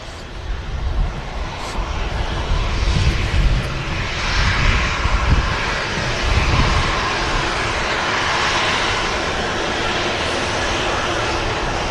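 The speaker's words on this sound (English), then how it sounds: "It's a Dash 9 Dreamliner from TUI." A TUI Boeing 787-9 Dreamliner at Manchester Airport gives off a steady, loud jet engine roar with a deep rumble that swells and holds for the whole stretch, with no talk over it.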